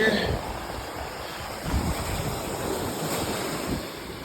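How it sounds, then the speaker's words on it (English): Lake Michigan waves washing onto the shore in blustery weather, a continuous close surf wash with soft swells and rolling surges, buffeted by wind on the microphone. "waves are getting up here"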